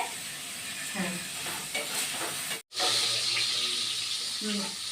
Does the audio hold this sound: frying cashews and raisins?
yes